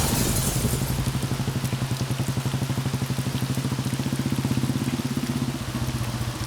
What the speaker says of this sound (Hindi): अरे यार, कितनी बारिश आ रही है।